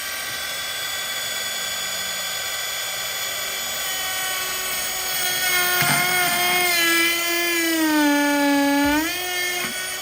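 A high-pitched small rotary tool whines steadily up close, its pitch dipping and climbing as it drills into material inside a BMW E90 interior, with no voices.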